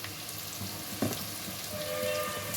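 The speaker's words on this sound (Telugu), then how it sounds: "పచ్చివాసన పోయే వరకు ఫ్రై చేసుకోవాలి" Ginger-garlic paste and turmeric fry in oil for a brinjal and fish curry, giving a quiet steady sizzle with one brief clatter of a spoon partway through and faint background hum. No voices.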